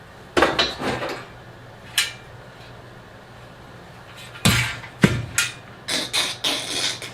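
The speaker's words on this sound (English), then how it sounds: "That's the sound of pallet boards coming off in the future" Wooden pallet boards pried off with a homemade pallet breaker: sharp knocks and metallic clanks in short bursts, a quick cluster at the start, a lone bang, a pause, then a flurry of cracks and thuds.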